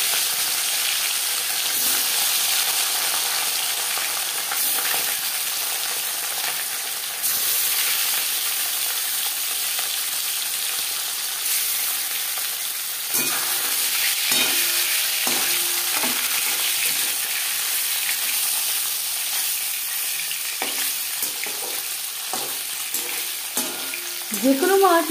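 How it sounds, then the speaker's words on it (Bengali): Marinated katla fish fries in hot refined oil in a pan, giving a loud, continuous sizzle with sharper crackles and spatula scrapes and stirring clatter that grow busier toward the end, with no one talking. "এবার দিয়ে দেব ম্যারিনেট করে রাখা মাছ"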